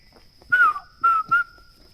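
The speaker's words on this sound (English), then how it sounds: "Just walk around, listen to the birds like the way I'm listening now." Birds calling in the indigenous part of Karura Forest: a few short, clear whistled notes in quick succession over a steady high-pitched insect-like hum, fairly close and with no talking.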